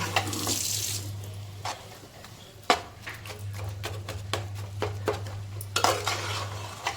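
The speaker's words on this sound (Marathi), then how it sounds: "त्याला हळूहळू परतून घ्यायचं. मध्ये येऊन परतवायचं." Jaggery melting in a cooking pan on the stove for a modak filling, stirred with a utensil that scrapes and knocks against the pan in irregular clatters over a low steady hum, close by with no talk.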